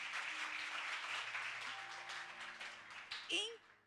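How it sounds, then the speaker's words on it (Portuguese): A church congregation bursts into applause, a dense wash of clapping that swells and then fades over a few seconds while a voice speaks over it. "Uma salva de palmas para essa pessoa"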